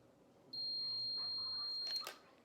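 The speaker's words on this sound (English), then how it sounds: "And at the solid beep, I'm ready to release." A Steamer Curl automatic steam hair curler gives a single long, steady, high-pitched beep lasting about one and a half seconds, clear and close over quiet background noise, ending with a soft click.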